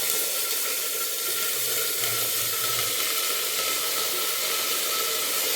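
Brinjal and capsicum sautéing in hot oil with mustard seeds and curry leaves, giving a steady, dense sizzle up close that holds unbroken throughout with no voices.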